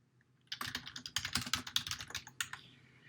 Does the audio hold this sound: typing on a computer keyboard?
yes